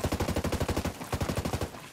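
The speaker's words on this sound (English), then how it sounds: "I'm taking fire." Rapid automatic gunfire from Ghost Recon Breakpoint, a steady rhythmic burst of evenly spaced shots, a brief pause, then another run of shots, moderately distant.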